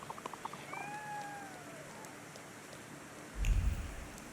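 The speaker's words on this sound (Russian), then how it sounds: "Мяу." A cat in The Thaumaturge, set in a rainy Warsaw street, gives a short, clear meow with a falling pitch early on, then the scene goes quiet apart from a soft rain patter and a low thump.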